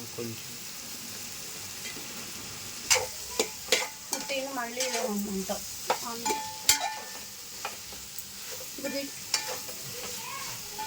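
Sliced mushrooms sizzle in a pan, with a bright steady frying hiss under sharp clattering stirs and spoon knocks, while people chat intermittently nearby.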